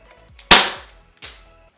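Two sharp gunshots ring out about three quarters of a second apart, each a loud crack with a quickly fading tail, close by, fired at a large doll.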